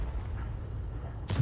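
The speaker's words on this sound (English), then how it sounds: "And another shell that missed the target, but did get stunned." A Lorraine 155 mle.51 tank artillery shell firing in a video game: a low rumble gives way to a sudden loud, booming blast at the very end.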